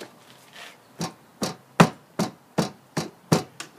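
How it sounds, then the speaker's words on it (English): Sand packed tightly into a casting mold with repeated firm thumps, about eight sharp impacts in an uneven rhythm, close and fairly loud with quiet gaps between. "And then I pack it in good and tight."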